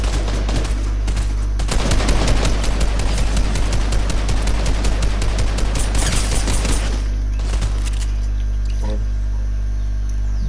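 Rapid, loud gunfire crackles in Fortnite near Believer Beach, dense overlapping shots with sharper shotgun blasts punching through the barrage.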